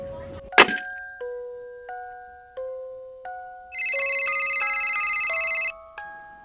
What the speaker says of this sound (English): I'm going to call our group on the phone.